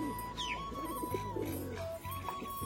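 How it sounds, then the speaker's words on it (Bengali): Soft, low cooing of pigeons repeats under a steady background hum, with a faint whistle-like tone running through. "দেখো পায়রা দুটো কিন্তু নিচে নেমে এসছে।"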